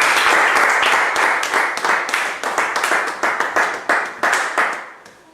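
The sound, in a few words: congregation applauding in church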